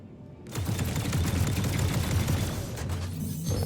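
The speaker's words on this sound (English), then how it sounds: "Oh wow, that was an explosion." Loud, dense burst of explosions and rapid gunfire in a space combat game with AI bounty hunting, a continuous barrage of booms and shots rolling for several seconds after a brief quiet start.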